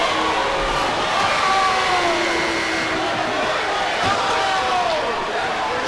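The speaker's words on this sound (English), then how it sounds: "Listen to the crowd" Crowd noise fills a high school boys basketball game between Huron and Pioneer, a steady loud murmur of the gym with scattered shouts and squeaky sneaker sounds running throughout.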